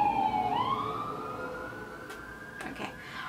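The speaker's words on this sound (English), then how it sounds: "There's an emergency vehicle coming by" An emergency vehicle siren wails past, its pitch sweeping upward then holding steady and loud, with a few faint knocks and rustles underneath.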